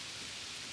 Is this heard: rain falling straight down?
yes